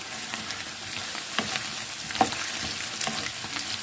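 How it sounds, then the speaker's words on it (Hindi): Onions frying with golden potatoes in a pan for aloo bhujia, a steady close sizzle with scattered stirring clicks and pops, alone without talk. "इसमें प्याज को भी साथ ही फ्राई करेंगे"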